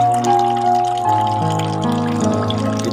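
Water trickles into a bucket fish pond just after the tap is shut, a steady bubbling flow with faint drips and a tonal ringing hum, heard close with no voices.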